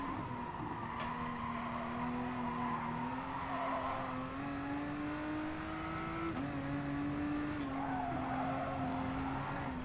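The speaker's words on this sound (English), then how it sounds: "A little bit of wheel spin with the cold tires" GT Sport race car spins its wheels on cold tires, with a steady engine drone and rising whine that climbs through the gears, up close and constant, and no talking.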